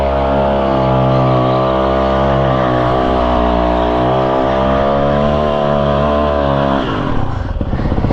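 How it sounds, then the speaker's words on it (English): A car doing donuts: a loud, sustained engine drone held at high revs for several seconds, pitch wavering slightly, then dropping off into rougher, clattering noise near the end. "More donuts."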